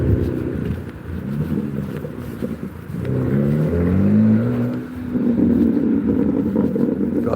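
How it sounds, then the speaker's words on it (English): A passing car with an aftermarket performance exhaust accelerates along a seaside promenade, its deep, throaty drone rising in pitch and swelling loud as it goes by, heard outdoors with no talking. "It's got a go faster exhaust"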